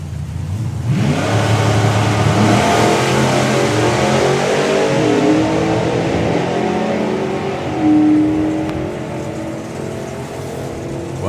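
Supercharged Outlaws drag racing cars launch hard down the strip at the Dragstalgia meet, a loud, sustained roar of revving engines that holds for several seconds, then eases slightly as the cars pull away.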